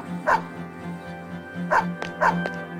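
A dog in the Persona 3 FES video game barks in short bursts, four or five close yaps spaced unevenly over a low steady background hum.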